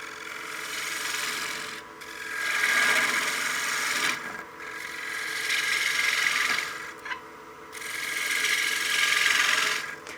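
A woodturning gouge cuts a spinning wooden coin box on a lathe, a steady loud scraping hiss in several long passes separated by brief pauses.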